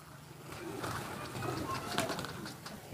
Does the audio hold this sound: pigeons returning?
yes